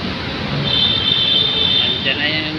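An LRT light-rail train pulls into a station platform, heard as a steady broadband rumble with a high metallic squeal rising over it partway through. The sound is loud and close throughout.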